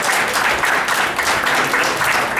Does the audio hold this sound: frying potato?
no